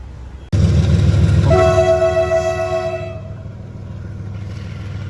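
A train rumbles past loudly and close at a railway crossing with the gate down and traffic waiting, its horn sounding a sustained blast for about two seconds before the rumble continues.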